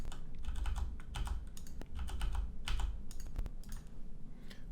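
A computer keyboard clatters with bursts of quick key presses in an irregular rhythm, close and fairly loud, alone without any talking.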